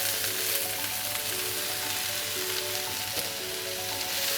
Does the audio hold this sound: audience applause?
no